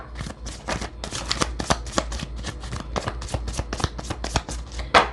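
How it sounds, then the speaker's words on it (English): A deck of tarot cards shuffled by hand during a card reading, a quick run of riffling, slapping card sounds at a fairly even pace, close and clear, with no speech. "Let's pull you a couple more cards."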